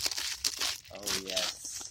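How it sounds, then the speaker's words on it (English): Wrapping paper on a present rips and crinkles in close, busy bursts, with a stretch of higher-pitched voice or squeal partway through. "it's time to unwrap my present."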